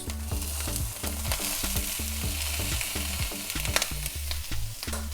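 Brussels sprouts fry with bacon and butter in a pan, a steady hiss of sizzling fat over a low rhythmic thumping, with occasional sharp crackles and no speech.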